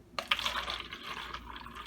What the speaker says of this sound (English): we're going to fill one styrofoam cup with hot water from the sink